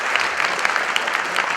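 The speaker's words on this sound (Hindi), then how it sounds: "आप अगर जोरदार तालियां बजाएं" Applause from an audience at a tribute event rings out steadily, a dense patter of many clapping hands at moderate volume with no voices.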